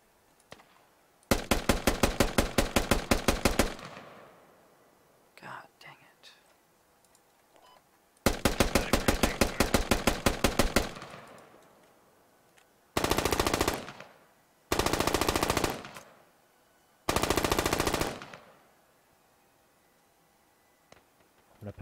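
Automatic gunfire in the video game Squad: long rapid bursts around two to three seconds each, then three shorter blasts, loud and close, separated by near silence.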